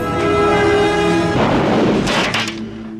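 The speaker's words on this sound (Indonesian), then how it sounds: "William pun memerintahkan anggotanya masuk lewat ventilasi udara lalu menembaknya." A deep boom bursts through a droning film soundtrack, followed by crackling debris and a fading rumble, as in gunfire shot through an air vent in a sci-fi mining colony scene.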